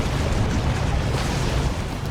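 A Demolisher Cannon shell explodes in a Dawn of War 2 battle, a loud, dense, sustained rumbling blast filling the whole moment with no talk over it.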